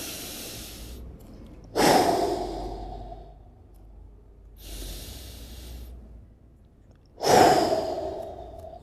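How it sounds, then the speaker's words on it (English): Deep breaths during a lower back stretch in a golf stretching routine: slow inhales followed by two louder, close exhales, each a drawn-out sigh, with quiet pauses between them and no talking. "Take a few deep breaths here into the lower back."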